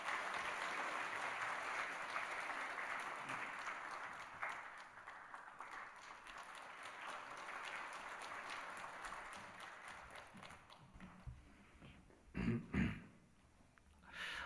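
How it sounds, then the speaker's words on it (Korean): A church congregation claps together in a long, even round of applause that gradually fades, followed by a few scattered coughs and throat clearings in the quiet room. "우리 큰 박수로 축하하겠습니다."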